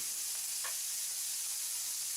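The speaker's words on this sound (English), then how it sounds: "She's deglazing the pan" A pan sizzling as it is deglazed in cooking, a steady bright hiss of frying and steam held throughout, fairly faint and alone with no talk.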